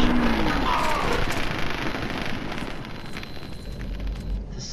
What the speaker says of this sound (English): This stupid Tesla cannon. It's gonna get me killed.